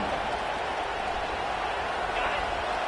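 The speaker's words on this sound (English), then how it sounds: "This crowd bringing the energy and noise early." A large American football stadium crowd roars steadily, a dense wash of cheering and noise that holds at the same level throughout.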